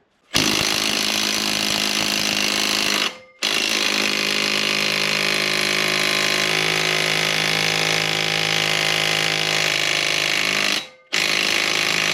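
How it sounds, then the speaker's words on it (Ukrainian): Impact wrench on the crankshaft bolt of a Mitsubishi L200, a loud continuous buzzing rattle that runs for about three seconds, stops briefly, then hammers on steadily for about eight seconds before cutting off. "Откручиваем болт коленвала. Я буду делать с помощью гайковерта"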